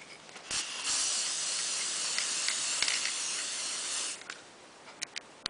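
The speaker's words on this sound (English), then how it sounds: "Place your tile on a paper plate and spray it with adhesive spray." Adhesive spray hisses steadily from an aerosol can onto a tile on a paper plate, a close, even spray lasting about three seconds, with a few light clicks before and after.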